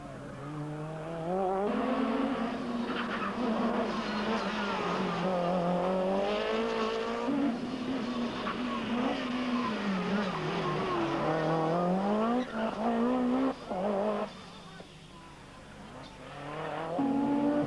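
Rally cars race on a tarmac stage at the 1986 Rally New Zealand. Engines rev and shift up and down through the gears, loud and sustained, with brief tire squeal. The sound drops off near the end and then picks up again.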